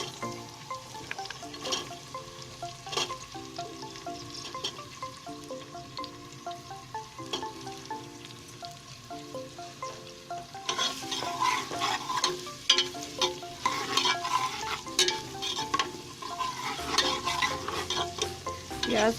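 Onions sizzling in hot ghee while a spoon scrapes and turns them, a dense crackling fry that grows louder and busier halfway through, close up with no voices.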